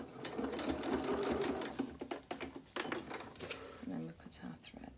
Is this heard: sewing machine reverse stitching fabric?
yes